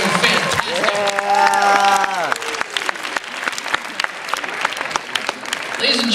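Hypnotist show audience applauding steadily for volunteers on stage, dense clapping that starts under a speaking voice and continues alone to the end.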